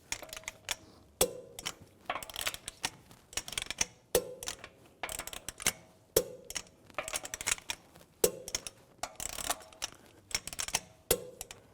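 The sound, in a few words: torque wrench tightening lug bolts on a BMW X3 wheel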